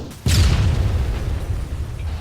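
A Carl Gustaf 84 mm recoilless rifle fires at a BTR in a military shooter game, giving one loud, sharp boom followed by a long, rumbling decay.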